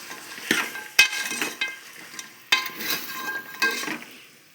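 Masala with chilli powder and turmeric stirred in hot oil, a soft steady sizzle broken by several sharp clinks and scrapes of a spoon against the pan at irregular intervals.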